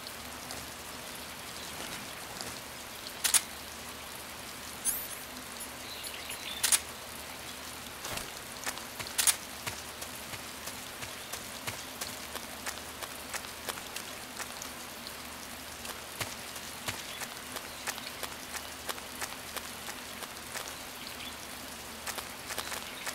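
Steady rain in Metal Gear Solid 3: Snake Eater patters continuously, with occasional louder drips and splashes standing out against the even hiss.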